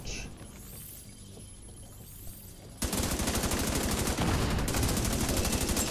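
Rapid automatic gunfire in The Division 2 bursts in loud and dense after a quieter stretch of ambient game noise, rattling continuously with a mechanical chatter to the end.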